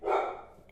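A single dog bark, loud and close, followed by fading decay and a faint short second yelp at the end.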